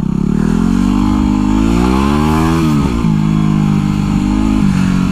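A dual sport motorcycle engine revs up, climbing in pitch, drops back briefly, then holds at a loud, rough mid-range drone, very close.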